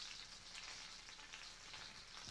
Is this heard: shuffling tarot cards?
no